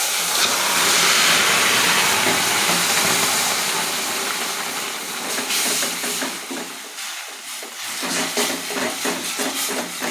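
Leafy greens poured into a hot oiled pan burst into a loud, broad hiss that slowly fades, then gives way to quieter crackling and stirring noises near the end.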